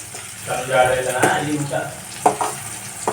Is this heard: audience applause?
no